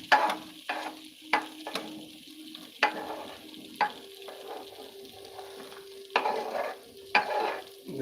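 Garlic sizzles in a pan with sauerkraut and mushrooms while a utensil stirs and scrapes it in repeated sharp strokes, close and alone over a steady hiss.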